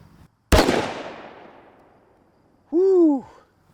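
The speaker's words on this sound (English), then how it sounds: "people like this who shoot hand cannons" One sharp, loud gunshot from a 50 caliber hand cannon cracks out and rings off, followed moments later by a short vocal exclamation.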